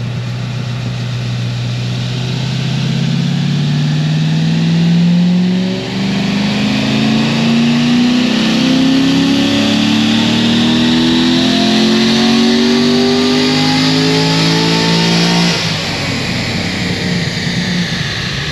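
A Corvette C6 Z06 V8 making about 610 horsepower roars through a sustained dyno pull, its pitch climbing steadily to a high wail before dropping off near the end, loud and close.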